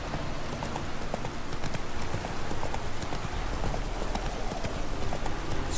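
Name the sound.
horse galloping in video game The Witcher 3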